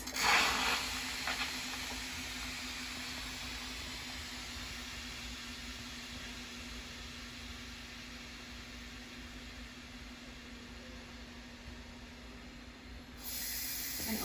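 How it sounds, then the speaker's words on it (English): Steady broadband hiss of an Instant Pot pressure cooker venting steam on quick release after a brunch dish finishes cooking, a continuous loud rush with a faint hum beneath that holds for about thirteen seconds before cutting off. "I'm gonna do a quick release."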